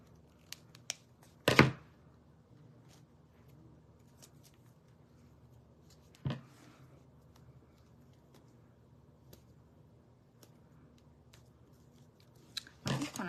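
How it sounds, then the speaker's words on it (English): Tape peeled off a rainbow craft piece in a few sharp, close ripping bursts separated by long quiet stretches, with faint handling rustles between them. "Get this tape off."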